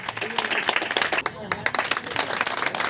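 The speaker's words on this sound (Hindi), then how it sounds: "जोरदार तालियों के साथ स्वागत कीजिए श्रीमती सुनैना चौटाला जी का।" Audience clapping to welcome Sunaina Chautala at an INLD political gathering, a dense patter of claps mixed with crowd noise and overlapping voices throughout.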